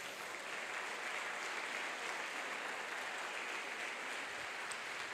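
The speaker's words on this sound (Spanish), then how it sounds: "¿Cuántos le damos un aplauso al Señor?" Church congregation clapping for the Lord during a sermon, a fairly faint, even wash of many hands from a distance, sustained without a break.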